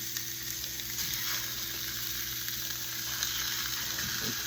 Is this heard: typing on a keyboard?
no